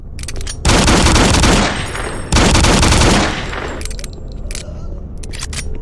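Rapid, uncapped pistol fire in Doom 3 with the Phobos mod, heard as two loud sustained bursts of closely spaced shots separated by a short gap and followed by scattered quieter clicks and clatter.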